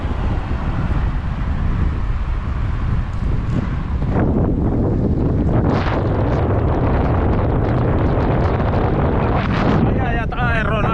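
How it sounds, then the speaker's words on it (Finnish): Strong wind roars and buffets the microphone continuously, a loud rushing blast with gusty surges throughout. "Onpas tuuli."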